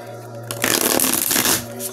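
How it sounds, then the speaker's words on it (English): Tarot cards riffled and shuffled in a quick burst of dense, crisp flutter, close and loud, fading back to a quiet room hum. "so we do three more shuffles."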